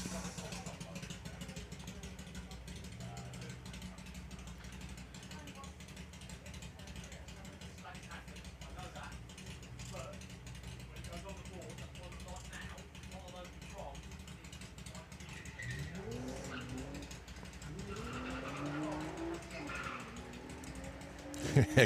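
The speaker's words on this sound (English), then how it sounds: "Carl wrestling the car through the gears there, and each time he changes gear, the front tyres protest and scrabble for grip" A front-drive Volkswagen Corrado drag car at a drag racing meet works through the gears, a droning mechanical rasp with repeated shifts and tyre scrabble toward the end, all heard from a distance under commentary.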